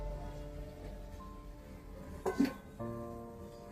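A lid set onto a cooking pot of meat and spices simmering with water, giving two short metallic clanks close by over a steady kitchen hum and faint background music.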